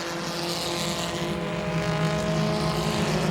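Race cars in a UCARs event at Langley Speedway roar past with a steady, droning engine hum, loud and continuous with no talking.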